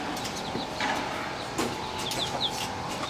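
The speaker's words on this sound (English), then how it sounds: "look at you, you prancing rooster" Chickens cluck and murmur nearby in short bursts, a rooster among them, with faint farmyard bird calls in the background, in Saigon.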